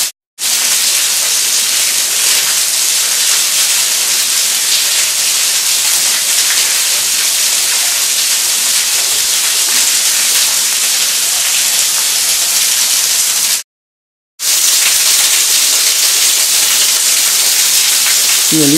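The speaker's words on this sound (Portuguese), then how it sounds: "Cai água lá de cima" Water falls from above inside a cave, a loud, continuous hiss of splashing like heavy rain that holds steady throughout, broken once by a brief silent gap, with no voices.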